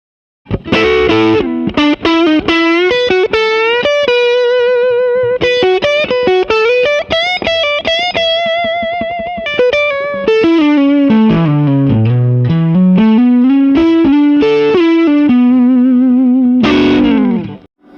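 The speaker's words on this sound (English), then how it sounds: "So now we're going to increase the preamp gain, but still have the power amp totally cranked" A single-coil electric guitar pushed through a cranked Venus 3 amp with high preamp gain, playing loud distorted sustained notes and bends in a flowing lead phrase, alone with no talk.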